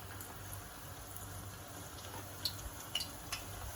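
Eggplant slices drop into hot oil in a pan for Pasta alla Norma, giving a faint, steady bubbling sizzle with a few sharp crackles and pops near the end, heard alone without talk.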